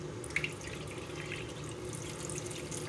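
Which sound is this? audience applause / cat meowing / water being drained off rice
water being drained off rice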